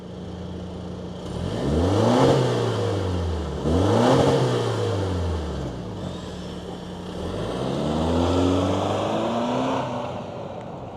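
2025 Toyota 4Runner TRD Sport Premium with a four-cylinder turbo engine revving: three rising and falling engine sweeps, the first two close together and the last slower, moderately loud with no talking.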